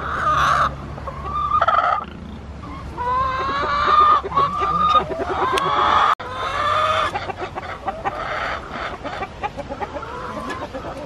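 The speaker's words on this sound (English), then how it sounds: "Rach, are you looking at the chickens?" Chickens cluck and squawk nearby in a busy run of calls, with one brief crow-like cry, while faint background noise continues underneath.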